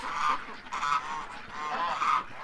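Ducks gather near a pellet feeder and call in three loud, nasal honking bursts spaced about a second apart, close by and with no talking.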